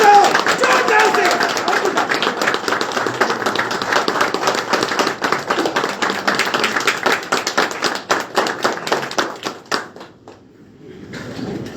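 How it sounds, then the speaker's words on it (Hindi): A standing audience at a company motivational event claps loudly and steadily for about ten seconds, dense rapid hand claps that thin out and stop abruptly, leaving quiet room tone. "खड़े हो जाओ, बजाओ तालियां जोरदार, धूम बजाओ, तालियां बजाओ जोरदार से।"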